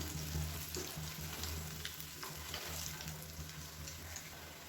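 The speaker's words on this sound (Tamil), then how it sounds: "சலசலப்பும் நல்லா லைட்டாக அடங்கிடுச்சு" A snack of flattened rice and potato frying in hot oil, a steady close sizzle and crackle with a low hum beneath it.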